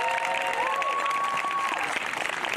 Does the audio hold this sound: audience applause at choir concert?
yes